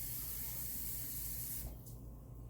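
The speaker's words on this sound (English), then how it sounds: "pour about a half a cup of water in there" Water poured into the bottom of a roasting bag for a sweet and sour pork roast, a steady close splashing trickle that runs continuously and thins toward the end, with no talking.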